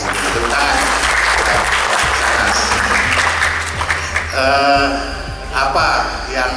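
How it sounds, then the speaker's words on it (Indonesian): Audience applause at a cooperative event in Indonesia, a broad clatter of many hands clapping that carries on throughout, with music and voices mixed in beneath and a brief swell near the end. "Tepuk tangan."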